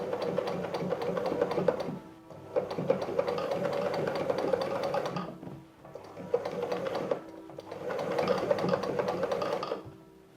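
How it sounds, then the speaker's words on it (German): A sewing machine runs along an existing seam in old denim jeans in three sustained bursts separated by short pauses, moderately loud and close. "Mit diesem Faden nähen wir nun einmal unsere schon genähte Naht entlang."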